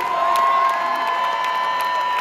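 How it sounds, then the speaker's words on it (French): A crowd cheers and applauds for Miss Alsace 2021 at a live concert in a large arena, with a steady tonal hum running underneath and scattered shouts over a brief burst of noise. "Merci d'applaudir très fort Cécile Wolfram"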